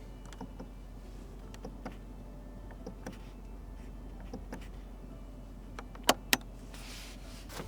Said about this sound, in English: And here's the sounds of the buttons pushing.